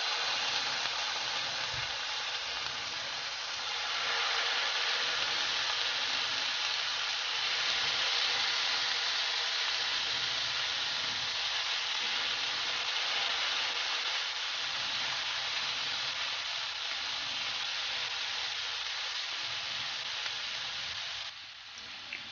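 Chicken tikka pieces sizzle steadily in melted butter in a pan, a continuous close hiss and crackle of frying throughout, with no talk over it.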